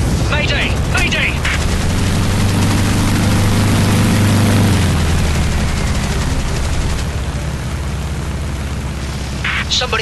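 Aircraft gunfire in the mobile combat flight game War Wings, a loud, dense, sustained rattle of bursts over a droning engine, mixed with game voice callouts and effects throughout.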